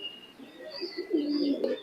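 High flying pigeon, a very active imported-bloodline bird, cooing in a low, steady murmur that swells toward the end, close by with faint higher chirps over it and no talk.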